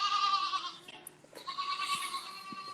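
Young goats bleat on a farm pen, giving a couple of high, wavering cries at moderate distance over soft background noise.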